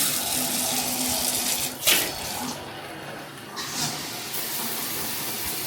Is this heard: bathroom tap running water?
yes